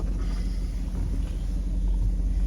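A Chevy Tahoe engine pulls away in a steady, close, low rumble that holds evenly throughout, with no talking.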